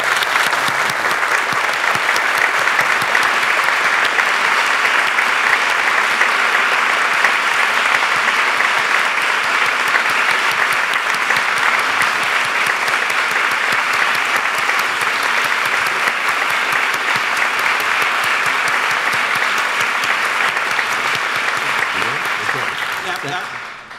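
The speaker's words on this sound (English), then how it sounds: "please a round of applause" Sustained, loud audience applause after a lecture by a Supreme Court justice at the Bernstein Lecture, an even wash of clapping from a large room that fades out at the end.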